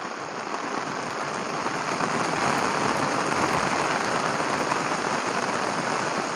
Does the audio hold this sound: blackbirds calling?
no